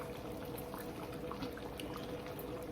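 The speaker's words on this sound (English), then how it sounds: "we're just going to finish letting these simmer and get nice and good and tasty" BBQ pork chops simmer in a pan over medium heat, giving a steady, dense bubbling and crackling hiss that stays even and fairly close throughout, with no voices.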